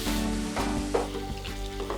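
Carrots and chicken sizzle and fry steadily in a pan as cream is added, a continuous crackling hiss with faint stirring scrapes, close and alone.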